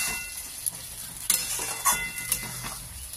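Fried potatoes being stirred into cooked masala for aloo dum, giving a steady sizzle with a few sharp scrapes and clinks of a spoon against the pan, close and clear.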